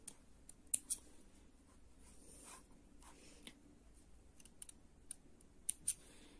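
Small scissors snip needle lace thread in a few quiet, sharp clicks spread across a hushed room, with faint handling sounds between cuts.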